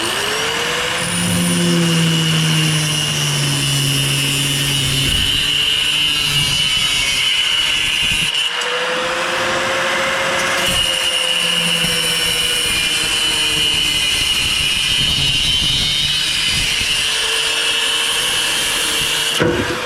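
A loud power tool cuts through a one-piece FMF motorcycle exhaust silencer, a harsh continuous whine with shifting pitch as the blade bites and slows, running close and unbroken.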